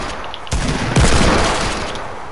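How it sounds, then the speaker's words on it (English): Minigun fire in a squad-based shooter video game, rough bursts of rapid automatic shots starting abruptly and swelling into a loud sustained roar that trails off, with no voices. "Oh, you are using a minigun"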